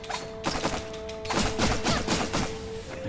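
Rapid bursts of crackling explosions from exploding creatures in the video game Afterimage, clustered in quick succession over a steady tonal hum from the game's soundtrack.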